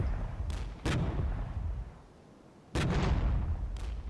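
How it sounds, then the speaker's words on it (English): Artillery strike explosions in the war strategy game Regiments, heard as two sharp booming blasts followed by a quieter rumbling lull, then another heavy impact with a fainter burst after it. "the artillery strike doing just enough damage"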